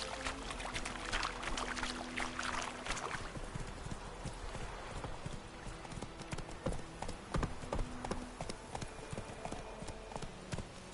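Geralt's horse Roach clip-clops along in The Witcher 3, a steady run of close hoofbeats over a faint ambient game background, with no talk.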